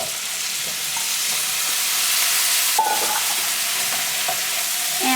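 Drained eggplant pieces sizzle and fry in a pan of hot butter and ghee, a steady close crackling hiss with occasional stirring clinks and no talking.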